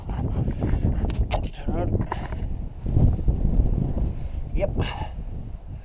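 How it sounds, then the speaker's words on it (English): Wind buffeting a microphone outdoors in Northumberland beside a solo bivvy shelter, a steady loud low rumble that gusts throughout, with a few faint distant sounds over it. "It's windy out here, but in there it's not."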